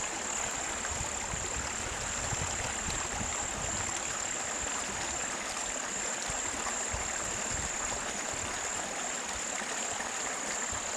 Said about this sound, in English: babbling brook. Sounds wonderful.